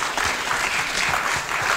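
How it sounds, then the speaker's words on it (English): Audience applause for the final hackathon team after their pitch at FOSSASIA 2018, a steady, dense wash of clapping from a crowd that holds evenly loud through the short stretch with no voices over it. "a round of applause for the last team"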